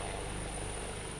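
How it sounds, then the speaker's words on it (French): A presidential helicopter lands at the heliport in Katiola, giving a steady, loud, close roar of rotor and engine with no break and no voices. "l'hélicoptère présidentiel atterrit à l'héliport de Katiola"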